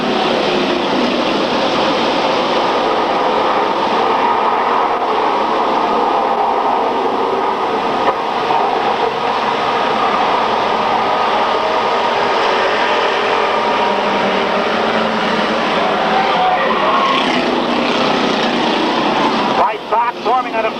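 Race cars roar loudly out of turn four at a 1995 RGS oval race, a dense continuous engine drone from a close pack under a track announcer's voice.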